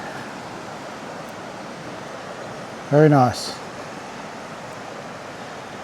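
Steady broadband rush of the Ovens River flowing behind a riverside camping spot, constant and moderately loud throughout, with a brief spoken remark partway through.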